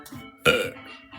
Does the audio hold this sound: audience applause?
no